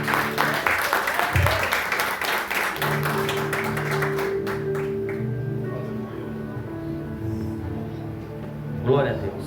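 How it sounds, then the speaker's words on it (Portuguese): Church congregation applauding, broadband clapping loud at the start then thinning out, with music tones sustained underneath and voices mixed in. "As palmas ao Senhor."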